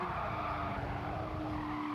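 A race car braking hard with a sustained tyre skid at Autodrome Lago Maggiore in a racing video game, a steady squealing hiss over engine rumble, fairly quiet and unbroken for about two seconds.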